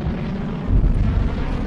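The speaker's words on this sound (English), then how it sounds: "I think I saw the bomb drop." A bomb from an airstrike detonates in a tactical shooter video game, heard as a continuous low, rumbling blast that swells midway and keeps rolling, with no talk over it.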